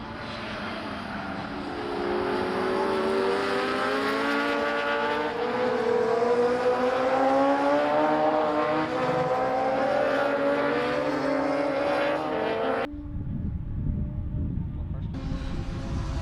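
Legends race cars roar past on a circuit near a chicane and hairpin, a loud sustained engine drone with shifting pitch. It cuts to quieter track sound near the end, with commentary running over it.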